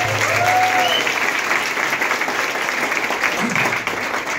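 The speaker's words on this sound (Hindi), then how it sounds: "मेरा ख्याल से जोरदार तालियां संतोष जी के लिए" Audience applause at a corporate celebration for a luxury BMW car ceremony, a steady, full round of clapping from a crowd that runs loud throughout with a few brief voices under it.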